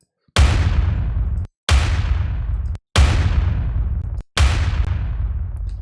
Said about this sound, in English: I also had to scoop the explosion to make it fit a little bit and cut a bunch of low mids out of it